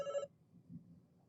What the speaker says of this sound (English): sorry, getting a phone call here